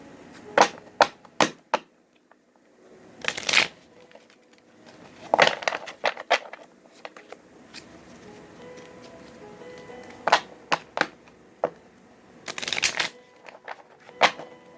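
Tarot cards being shuffled chaotically in quick bursts of riffling and flicking, with short pauses between, close up and otherwise quiet.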